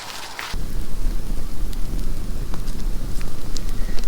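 Garden debris burning in a fire, a loud, dense crackling roar that starts abruptly and continues steadily, with scattered sharp pops throughout.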